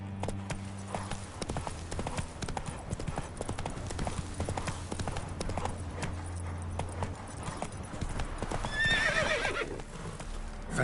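In The Witcher 3, the horse Roach gallops with a rapid, steady clip-clop of hooves, close and continuous, and near the end a clear whinny rises above the hoofbeats.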